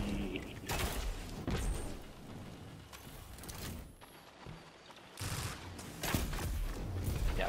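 A grenade goes off during a Destiny 2 multiplayer match, heard as loud bursts amid ongoing gunfire and game clatter, with several more booming blasts following in close succession.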